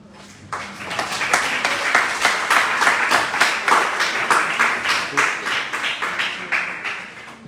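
An audience applauds after a speech on women's leadership, steady clapping from many hands with a rhythmic pulse, fairly close and continuing for several seconds.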